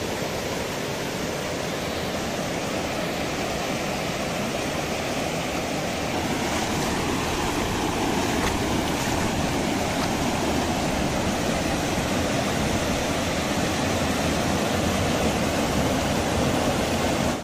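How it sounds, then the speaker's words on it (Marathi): Somnath's waterfall in the monsoon rain pours in a dense, unbroken roar of rushing water that stays steady and full throughout, with no voices. "पहा आमचा धबधबा वाहता सोमनाथचा"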